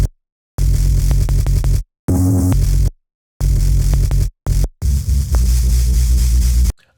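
Distorted drum and bass synth bass run through a saturator and clipper, loud and gritty, played in several short phrases with abrupt silences between them.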